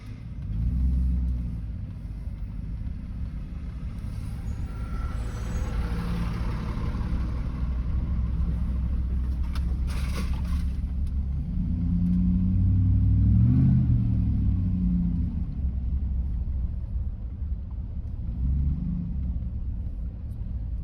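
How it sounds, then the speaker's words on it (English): A Peterbilt truck engine rumbles steadily while driving, a deep continuous low drone that swells slightly mid-way, heard close with no talking. "We're actually driving the Peterbilt today."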